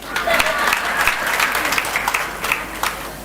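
Steady applause from a seated audience at a spiritual discourse in Malad, Mumbai, with distinct claps running through about three seconds at moderate volume over a low background hum.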